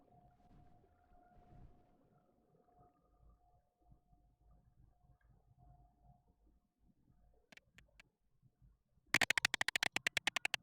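Whales call out in the underwater game Beyond Blue: a long, faint, steady drawn-out tone hangs for several seconds, then gives way to a sharp burst of rapid, loud clicking near the end.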